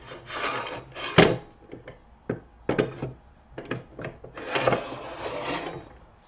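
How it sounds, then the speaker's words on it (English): Rough, raspy scraping of 80-grit sandpaper on the outside of a red oak bowl on a lathe, in bursts, close up, with short strokes and pauses, no talking. "Let's give it a quick sanding with some 80 grit on this side."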